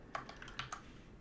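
Light, quick taps on a computer keyboard, a handful of soft keystrokes close by in a quiet room, with no talking.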